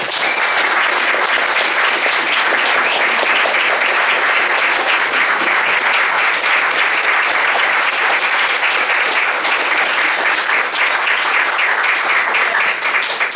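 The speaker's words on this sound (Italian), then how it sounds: "Voglio che facciate un grandissimo applauso per Davide Perino." Sustained, loud audience applause greets a voice actor introduced on stage at a Japan Days 2019 fan event, a dense, steady wash of clapping that holds at full level for about thirteen seconds without talk.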